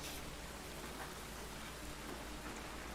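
Steady rain falls in the Hundred Days video game, a dense, continuous hiss of drops hitting surfaces, even in level throughout with no speech.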